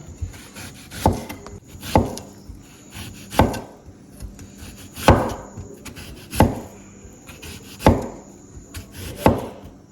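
A knife slices through plantain for chips on a wooden board, regular thudding cuts about once every second or so, close and distinct with a short scraping tail after each stroke.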